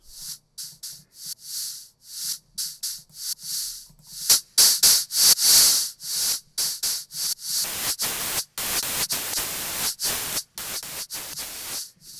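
A gritty, distorted electronic percussion loop made in the Serum synthesizer, hissing noise bursts in a repeating choppy rhythm, cutting in and out sharply.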